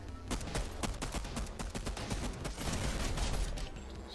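Rapid gunfire in Fortnite, a dense, continuous burst of loud shots in quick succession lasting several seconds with no pauses.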